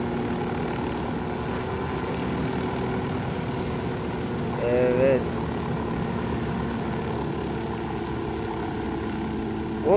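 Helicopter in Tom Clancy's Ghost Recon Wildlands, a steady droning rotor and engine hum running throughout at moderate level, with players talking over it and a brief louder swell midway.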